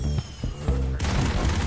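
Gunfire and explosions in the Broforce video game, a dense stream of rapid shots and booms with a heavier blast near the middle, continuous and loud.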